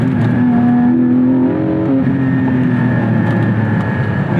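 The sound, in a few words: Porsche Spyder engine driving in second gear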